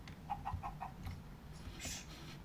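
A few short, soft clucks from a chicken repeat at a quick pace, faint against a murmuring background hum.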